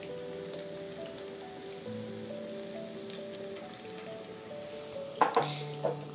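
Soy sauce hits hot oil with fried garlic and chili for a Chinese-style cucumber salad, giving a steady, crackling sizzle that continues throughout. Stirring clinks and a few louder pops rise near the end.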